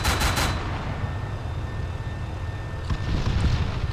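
A 40mm GMG automatic grenade launcher in ArmA 3 fires a quick burst of loud thumping shots at the start, followed by a long rumbling tail and a faint metallic whine, with another softer bump near the end.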